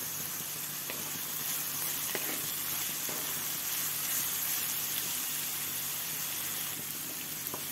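Green chilies hit hot oil in a pan while cooking okra stir-fry with tomato and garlic, producing a steady, bright sizzle that stays even throughout with no talking.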